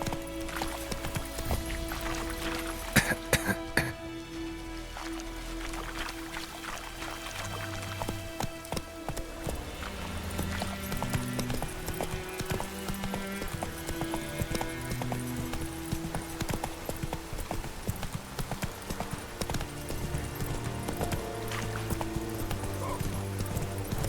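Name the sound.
horse Roach galloping in video game The Witcher 3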